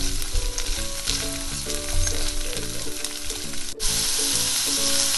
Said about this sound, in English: So we just cook this green beans until it's ready.